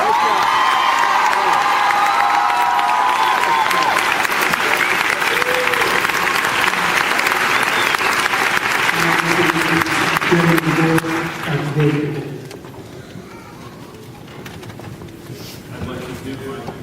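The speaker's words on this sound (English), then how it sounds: "One more round of applause." Crowd at a graduation ceremony breaks into loud, sustained applause with cheers and whoops, then the clapping fades out and a voice starts to speak over the quieter room.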